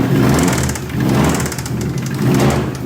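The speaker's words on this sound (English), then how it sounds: "as you heard has a healthy rod knock" A Subaru EJ205 engine runs with a rough, rhythmic rod knock beneath its steady drone, close by and fairly loud.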